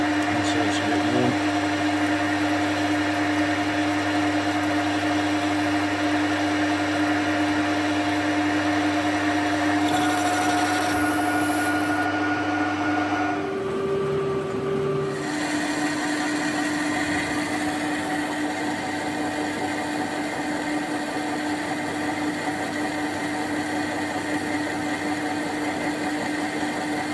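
Lathe cutting 4130 chrome moly steel at 750 RPM with a 1mm depth of cut, a steady loud machining drone with a constant whine that briefly dips and shifts midway before resuming, with faint voice-like noise underneath.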